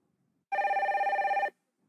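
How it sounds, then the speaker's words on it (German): A single long telephone ring lasting about a second, loud and close, with a steady warbling bell tone, then silence. "Das Telefon klingelt im Flur."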